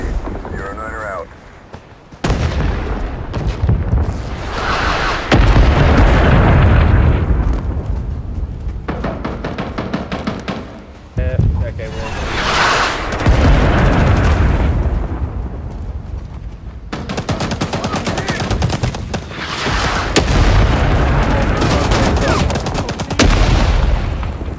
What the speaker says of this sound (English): That's a roger on your firing mission. On the way.